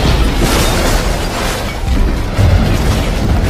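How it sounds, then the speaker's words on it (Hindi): A nuclear blast from an atomic bomb in the film Indiana Jones 4 rolls on as a loud, sustained roaring rumble, with no break and no voices over it. "तभी परमाणु बम का विस्फोट होता है।"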